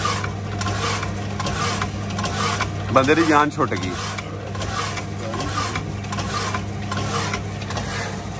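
An iron-cutting saw machine runs with a continuous mechanical rasp and whir, briefly rising in a grinding burst. Voices talk over it throughout.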